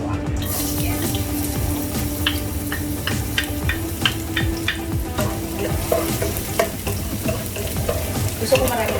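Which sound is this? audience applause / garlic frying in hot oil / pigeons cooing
garlic frying in hot oil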